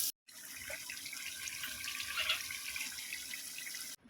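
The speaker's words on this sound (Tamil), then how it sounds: "தேவையான அளவு தண்ணி சேர்த்துக்கலாம்." Water streams steadily into a chicken biryani pot for several seconds, a soft, continuous splashing hiss, fairly faint and close, starting and stopping abruptly, with no talking.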